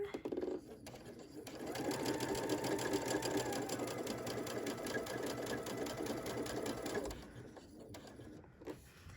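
Sewing machine edge-stitching close to the fabric edge with an edge stitch foot, a fast, even rattle of stitches that runs steadily for several seconds and then stops.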